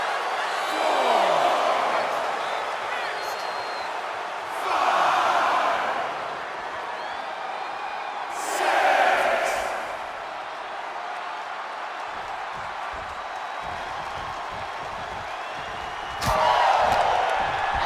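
Wrestling arena crowd in the video game WWE 2K25, rising in several roaring swells of cheering between quieter stretches, under ongoing in-game commentary and impact noise.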